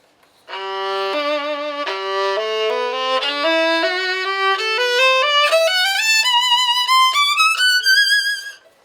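A half-size Arco student violin with cheap strings plays a steady ascending sequence of bowed notes, climbing gradually in pitch with clear, singing tone, alone and close.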